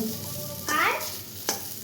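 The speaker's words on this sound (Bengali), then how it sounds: "এদিকে চলছে আমার উচ্ছে ভাজা আজকে" Oil crackles steadily in a pan of frying bitter gourd, with a louder burst of sizzle and a quick metallic scrape of stirring.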